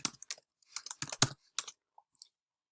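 Someone types quickly on a computer keyboard, with bursts of close, crisp key clicks that break off into short pauses and then a few isolated taps.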